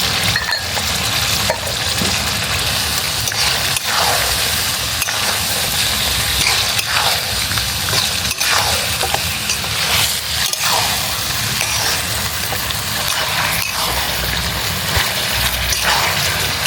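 Crushed fried onions and fried potatoes cooking in oil for village-style chicken chukka, a loud continuous sizzle with occasional clinks of a utensil against the pan.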